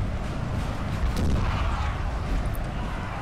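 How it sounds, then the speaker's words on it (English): Six-pounder cannon volleys boom through a dense, continuous roar of artillery and musket fire on a Napoleon: Total War battlefield, with heavy low rumble throughout. "good volley there from the six-pounder"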